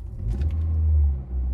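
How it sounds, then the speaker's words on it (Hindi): The engine of a 2023 Hyundai i20 Sportz revs from inside the cabin. A low, muffled rumble swells and then eases off briefly. "एंड जैसे कि मैं गाड़ी को रेव करता हूँ"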